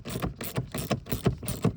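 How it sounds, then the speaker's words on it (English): Five evenly spaced bursts of ratcheting from a 10 mm socket wrench backing a screw out of a 2013-or-later Ford Fusion door panel, close and moderately loud, with no voices. "Take a 10 millimeter socket, get this screw out."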